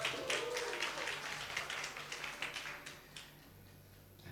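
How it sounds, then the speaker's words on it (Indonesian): A church congregation at a Sunday service applauds, a soft, fairly distant patter of many hands that gradually thins out as a voice speaks over it. "Berikan tepuk tangan untuk Tuhan, saudara."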